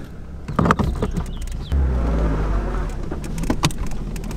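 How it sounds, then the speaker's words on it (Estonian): A car engine running with an odd, uneven noise, a low rumble that thickens midway, broken by clattering knocks and bumps; nearby and moderately loud, with no one talking. "Auto teeb juba imelikumalt häält kui hommikul."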